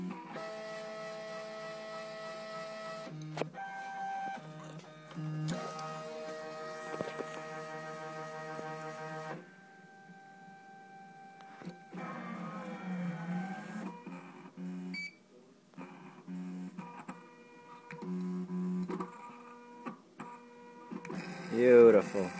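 A Gravograph IM4 engraving machine cutting an anodized aluminum name plate, heard as steady electronic whines and tonal motor hums that switch between pitches in stepped stretches, with short pauses between passes and no talking.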